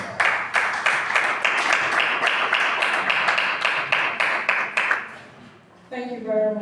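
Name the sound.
applause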